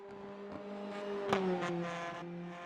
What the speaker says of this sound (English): Does that car sound really rough? Is he running?